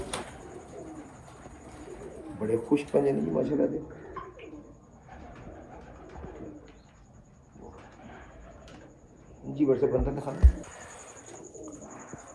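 Pigeon cooing from Sialkoti breeder pigeons in two soft bursts, around the third and tenth seconds, mixed in with steady conversation between men close by.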